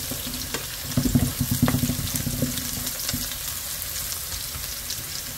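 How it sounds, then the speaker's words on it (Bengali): Crushed garlic sizzles steadily in hot oil over a high flame, a continuous frying hiss with a brief burst of stirring clatter near the start, then settling into an even crackle. "এখন এই রসুনটা একটু হালকা এই যে তেলের মধ্যে, চুলার আঁচটা কিন্তু আমার হাইতেই আছে"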